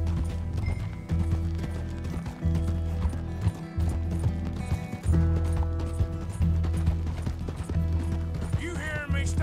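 Horse hooves clip-clopping in the video game Red Dead Redemption 2, a steady rhythmic patter mixed with wheel and harness clatter over a dense game soundtrack, with a brief whinny near the end.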